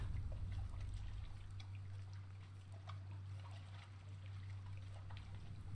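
River water in the video game Moxina flows steadily as a continuous, faint rushing wash over a low, constant hum, with no talking.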